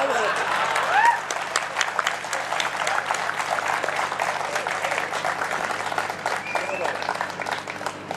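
Crowd at a film festival inauguration speech in Latur applauds steadily, the clapping running under and alongside a speaker's amplified voice throughout.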